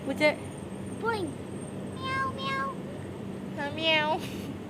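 A cat meows several times up close, in short rising and falling calls with brief pauses between them.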